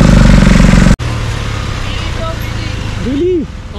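A Kawasaki Z900 motorcycle rumbles loud and close on a ride through Noida, then cuts abruptly to a quieter engine drone under wind noise, with a brief swelling rev near the end.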